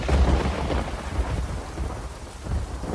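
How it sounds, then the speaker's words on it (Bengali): Cartoon thunderstorm with heavy rain, a deep rumbling roll of thunder over a constant hiss of rainfall, loud and close, no voices. "এই যা, বৃষ্টিতে চলে আসছে,"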